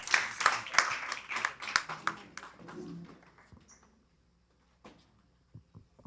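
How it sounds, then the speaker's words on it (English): Scattered applause from a small audience at the Eastern Africa Filmmakers Summit 2025, individual claps audible in a loose burst that fades after about three seconds, leaving a few stray knocks and near silence. "A hand of applause for Rwanda."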